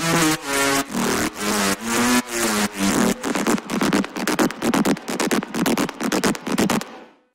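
Heavily processed synth lead pushed hard into soft clipping, playing a dense run of loud, sustained notes with sharp gaps, the first phrases longer and the later ones quick and choppy, alone in a music mix.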